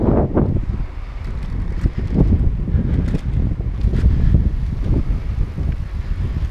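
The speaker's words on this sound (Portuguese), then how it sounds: "Vento forte, uma brisa forte." Strong wind buffets the microphone in gusty, rumbling bursts, loud and continuous throughout with no speech.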